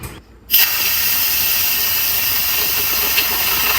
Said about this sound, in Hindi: मैंने स्टीम को रिलीज़ कर दिया है